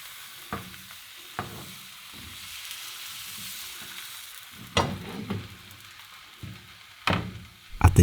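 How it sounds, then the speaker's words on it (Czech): Pancake batter poured into a small frying pan hisses in a steady sizzle, punctuated by sharp knocks and scrapes of the pan being swirled, with several louder clatters toward the end. "Nalejeme těsto na pánvičku a krouživým pohybem rozlejeme to těsto po celé pánvi."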